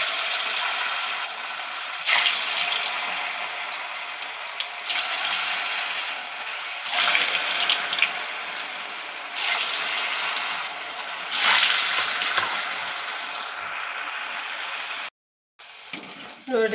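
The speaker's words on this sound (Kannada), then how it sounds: "ಈಗ ಎಣ್ಣೆ ಕಾದೈತಿ. ಇವನ್ನ ಉಂಡೆ ಮಾಡಿ ಇಟ್ಕೊಂಡಿದ್ನಲ್ಲ, ಅವನ್ನ ಇದ್ರೊಳಗೆ ಒಂದೊಂದು ಹಾಕಿ ಬೇಯಿಸ್ತೀನಿ." Potato manchurian balls fry in hot oil with a steady, dense sizzle that swells in bursts as more balls are dropped in. The sound is close and continuous, with no talking, and cuts out briefly near the end.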